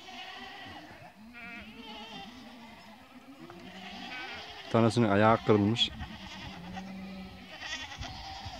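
Goats and young kids bleating in a herd at feeding time, several wavering cries with a loud close cluster in the middle, while someone speaks over them.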